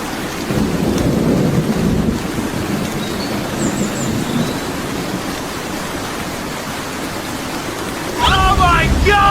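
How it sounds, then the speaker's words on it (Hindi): Heavy rain in a thunderstorm roars on without a break, with deep rumbling thunder building early on. A voice cries out near the end over the downpour. "चलो किधर से बारिश हो गया।"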